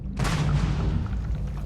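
A grenade explodes in the video game Starfield, a single loud, close boom that hits sharply and then rumbles away over a second and a half.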